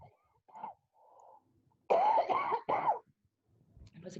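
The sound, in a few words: cough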